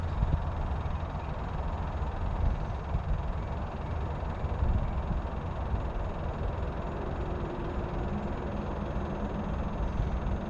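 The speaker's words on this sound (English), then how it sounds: "here's the fuel pump running" The fuel pump on a RAM50 pickup truck runs with a constant, dense mechanical hum and whir that stays steady throughout, with no voices.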